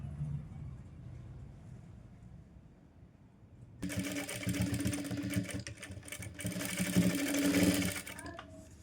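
Quiet talking comes first, then a close sewing machine starts stitching layered fabric, its fast mechanical whirring and clatter running steadily with brief pauses until the end.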